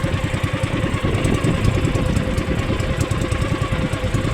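A boat's engine runs steadily out on the open sea during a fishing trip, a continuous low mechanical drone with a rapid pulsing chug that stays close and even throughout.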